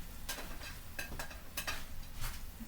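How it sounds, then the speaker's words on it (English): Onions and peppers hiss and crackle in a hot pan as they are stirred, a steady close sizzle broken by a few scraping stirs of a utensil. "we're going to add our onions and our peppers in here."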